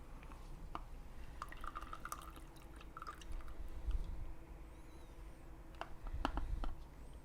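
Water emptied from a Sunbeam Pro steam travel iron, heard as soft, quiet drips and small liquid splashes scattered over several seconds against a low background hum, with no talking.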